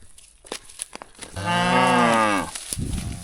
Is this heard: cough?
no